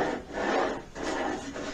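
Skateboard grip tape being rubbed, two rough sandpapery scrapes up close, one long stroke followed by a shorter one.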